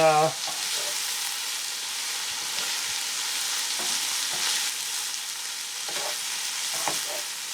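Popcorn pops in a pan with olive oil on low heat, scattered pops and a sizzling hiss throughout, close and fairly loud with no talking.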